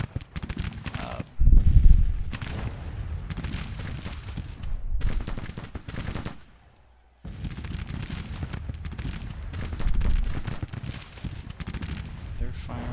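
Troops in a Civil War strategy battle game fire in rolling bursts, a rough crackle of volleys rising and falling with a brief lull partway through.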